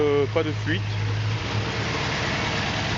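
A 1982 Chevrolet C10 V8 idles steadily nearby, its low even rumble and hum running under a brief voice at the start.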